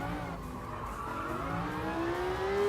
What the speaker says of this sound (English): Massive, almost 7-liter V10. Sounds amazing.